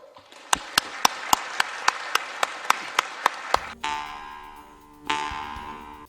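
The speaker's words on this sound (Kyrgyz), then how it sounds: "Ошон үчүн бир кол чабып койсок." Applause in a parliament chamber: about a dozen sharp, evenly spaced claps ring out close and loud in a steady rhythm, then stop abruptly as sustained tonal music takes over.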